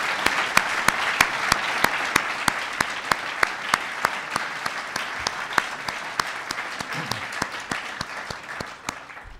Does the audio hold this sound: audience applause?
yes